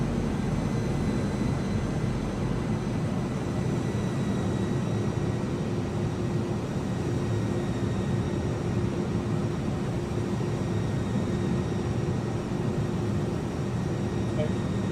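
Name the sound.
Airbus A300-600R engines throttling up, flight simulator game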